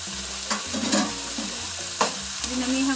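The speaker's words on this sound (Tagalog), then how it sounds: "Nag-brown na yung ating garlic onion at ginger. Ilagay na natin sa chicken." Chicken sizzling in a pan with browned garlic, onion and ginger for tinolang manok, a steady close frying crackle with stirring scrapes and brief clinks.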